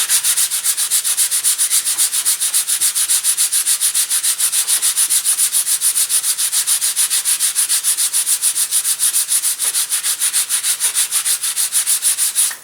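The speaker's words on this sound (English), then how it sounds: "I'm just resting the sandpaper on here and rubbing it back and forth" Sandpaper rubs back and forth on balsa wood for an elastic-launched glider build, the Super Protege 2020. The rhythmic, bright scratching strokes are close and steady and continue without a break.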